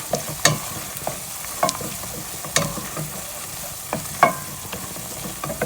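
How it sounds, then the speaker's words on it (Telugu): Chili powder being mixed into a pulusu curry for pesara attu in a pan, with scraping spoon strokes in an irregular rhythm over a steady low sizzle, close and moderately loud, no talking. "వన్ అండ్ హాఫ్ స్పూన్ వేసుకొని మిక్స్ చేసుకోండి బాగా"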